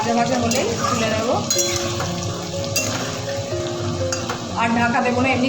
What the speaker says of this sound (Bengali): আলুটা ভালোই ভাজা হয়ে গেছে